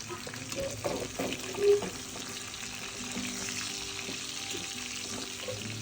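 Stuffed brinjals frying in oil in a pan for a village-style brinjal bharit, giving a steady soft sizzle with a few brief clinks and stirring scrapes, close and moderately loud, with no voices.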